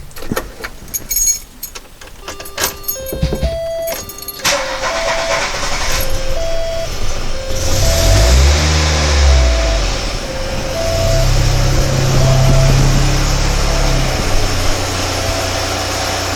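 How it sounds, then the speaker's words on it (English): A 1993 VW Cabriolet sits idling with its engine running and a transmission fault. Early on there are sharp clatters and jangling keys, then a steady low engine drone with a whining hum, and a repeating chime beeps over it. "And there's a noise in the transmission."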